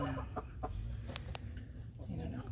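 Several chickens cluck and squawk softly from a nesting box, short scattered calls close by over a low background rumble, with a person's voice speaking nearby.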